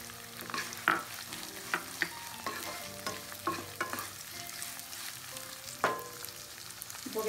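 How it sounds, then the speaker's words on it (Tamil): Onions sautéing in a pan while a spoon stirs them, with steady close sizzling broken by repeated scraping clinks of the spoon against the pan, no voices. "வெங்காயம் கொஞ்சம் நல்லா வதங்கிட்டோம்."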